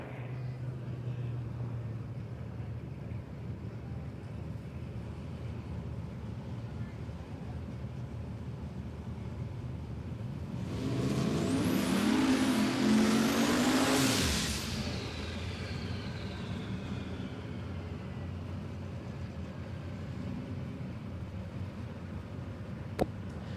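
A drag racing car screams down the track at Palmyra Raceway, a loud broadband roar rising from about ten seconds in and cutting off near fifteen, over a steady low crowd and engine rumble.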